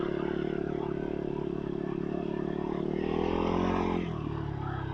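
A Fantic Caballero Scrambler 500 Deluxe motorcycle being ridden, its engine holding a steady loud drone that climbs briefly in pitch before easing off, with no talk.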